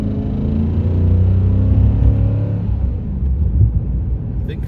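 A Chrysler 300C SRT Design car being driven gives off a loud, steady low rumble with an engine drone that holds and then eases slightly, heard from inside the cabin with no talk.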